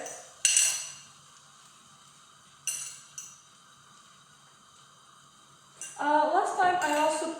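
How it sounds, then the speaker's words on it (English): Cutlery clinks against a pan as eggs go into melted butter, with a few sharp scrapes and taps spread apart and a busier stretch of stirring clatter at the end. Quiet background talk runs through it. "Now the butter is melted. We are going to add in the eggs."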